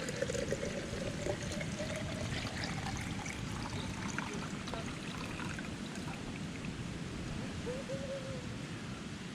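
Water from a green coconut pours in a steady, gurgling stream, close by and fairly quiet, with a few brief higher trickling notes along the way.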